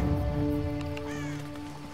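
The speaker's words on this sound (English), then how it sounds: "Where I hear birds." Birds caw a few times in the distance over a steady droning musical backdrop in the video game Tomb Raider (2013).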